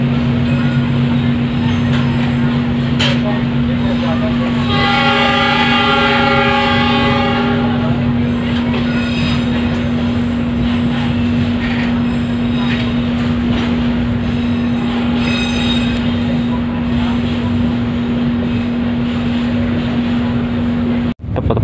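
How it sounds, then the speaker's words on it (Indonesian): A long container freight train rolls past steadily at night near Surabaya, a continuous rumble with a loud sustained horn blast early on, alongside a steady tonal hum from a nearby passenger train. "Kita ketemuan sama kereta kontainer."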